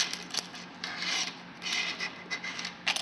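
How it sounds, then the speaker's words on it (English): Needle nose pliers wedged in the grooves of a Lorus Fusion watch case back give off short, close scraping rasps in several bursts as the back is twisted counterclockwise; no one speaks. "stick it in the grooves like this. Just hold it in and then turn counterclockwise."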